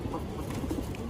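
Palla line pigeons coo with soft, low, steady murmuring that fills the short moment without pause and with no talking.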